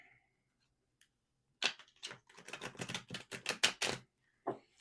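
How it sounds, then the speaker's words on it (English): Tarot cards are shuffled in a rapid burst of crisp riffling clicks and slaps, followed by a single later snap, close and quiet with no talking. "As I'm shuffling the tarot, I would like to remind you to keep a spiritual journal."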